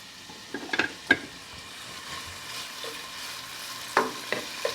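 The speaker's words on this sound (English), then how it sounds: "I want to just sizzle this until it kind of fries up a little bit" A soft, steady sizzle of prosciutto frying in olive oil in a pan, with a few light clinks and stirring taps scattered throughout.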